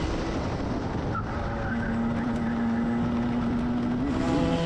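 Racing karts at Wilton Mill in a Club100 race, engines droning loud and steady from close by with a rising whine as one kart overtakes on the send into Osiers corner.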